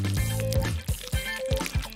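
Nail polish dribbled in a zigzag into a container of water makes a quick run of small wet plops and drips, about five in two seconds, close and distinct over a faint tonal background.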